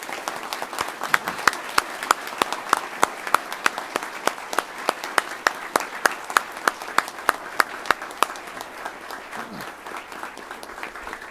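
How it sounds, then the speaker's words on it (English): A crowd at a Huntsville police promotion ceremony in August 2015 claps in steady, moderately dense applause that keeps an even level for about eleven seconds, with sharp individual claps standing out near the listener. "If you would all join me in a hand of applause for what they've accomplished"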